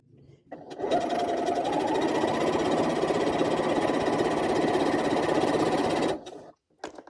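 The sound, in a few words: sewing machine stitching a quilt block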